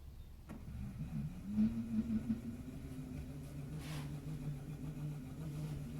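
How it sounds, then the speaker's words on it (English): Small electric motor driving the propeller of a tiny homemade boat, a faint steady hum with a low droning tone close by, no talking. "And let's watch the propeller just for fun."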